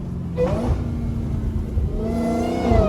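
A Dodge Hellcat's engine rumbles loud and close through a neighborhood street, swelling into a revving surge, with a steady deep drone throughout and no talking.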